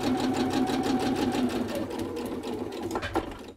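A sewing machine runs steadily as it stitches a double-sided doll dress, its motor hum continuous and close, easing slightly near the end.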